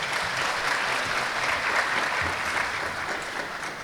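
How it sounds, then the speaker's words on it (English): A graduation ceremony crowd claps continuously and evenly for nearly four seconds, a dense wash of hand claps with no voices over it. "Shall we please clap for these men of God?"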